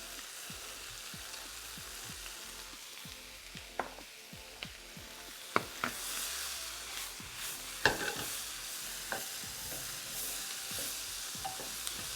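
Sliced onions frying in a pan with a pinch of sugar and salt, a soft steady sizzle with scattered clinks and a few sharper tossing knocks, no talking.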